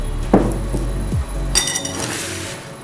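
Citric acid being tipped into a big bowl while making homemade dishwasher powder, heard as a few close clinks and knocks of glass and metal followed by a brief rattling pour.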